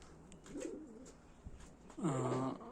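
Pigeons coo outdoors in low, rolling calls, one soft burst early and a louder, nearer coo near the end, with no talking over them.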